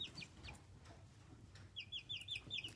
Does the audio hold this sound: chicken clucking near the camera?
yes